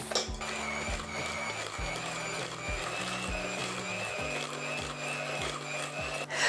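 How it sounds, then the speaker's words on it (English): An electric mixer beats 300 grams of dark sugar into a rhubarb and cinnamon cake mixture, a steady mechanical whirr with shifting pitch and regular knocks of the beaters against the bowl. "we're going to add in our 300 grams of the dark sugar, and we're going to beat it all together"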